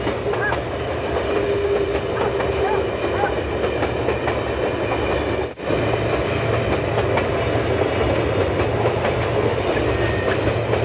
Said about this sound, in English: The train rumbles through the east end of Doe River Gorge after passing Blevins.